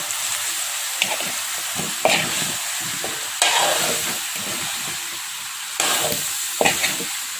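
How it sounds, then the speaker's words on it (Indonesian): A spoon scrapes and turns jackfruit rendang in a pan, giving a few distinct scraping strokes over a steady, close frying sizzle. No one speaks. "Nah ini kita aduk rata"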